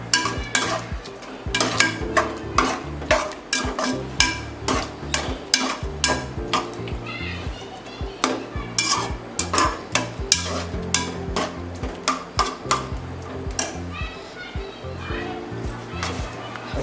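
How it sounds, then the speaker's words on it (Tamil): Carrot halwa cooking with milk in a pan is stirred steadily with a utensil, making repeated scraping and clinking strokes in an uneven rhythm, close by and fairly loud. "நல்லா பாலோட சேர மாதிரி நல்லா கிண்டிக்கிட்டே இருங்க"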